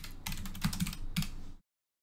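Quick typing on a computer keyboard, a short cluster of close, crisp key clicks and taps that ends abruptly in silence.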